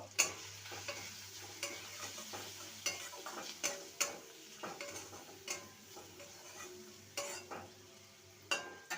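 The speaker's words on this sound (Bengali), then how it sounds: "আর দেব হলুদ গুঁড়ো ভালো করে নেড়ে নেব" A spoon stirs drumstick curry with turmeric powder in a pan, giving a soft steady sizzle broken by irregular scraping clinks of utensil against metal, close and moderately quiet, with no talking.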